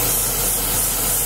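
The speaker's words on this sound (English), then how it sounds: "And spray this on." A paint spray gun set to a lower air pressure gives a loud, continuous hiss with no breaks, close by and alone.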